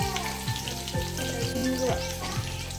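Fenugreek seeds, cumin and crushed garlic fry in hot oil with a steady, crackling sizzle, while a voice talks over it and periodic low thumps and clinks of a pan sound throughout.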